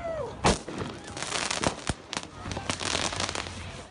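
Fireworks and paintball guns go off amid protest clashes in Northeast Portland, a series of sharp cracks and bangs at irregular intervals, some close and loud, others farther off, over crowd noise and voices.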